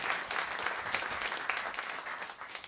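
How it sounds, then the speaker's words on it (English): Applause from a jazz audience for a bass player, steady dense clapping heard at moderate distance without speech. "give the man a round of applause there"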